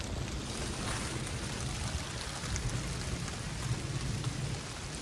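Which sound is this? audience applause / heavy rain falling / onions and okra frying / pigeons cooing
heavy rain falling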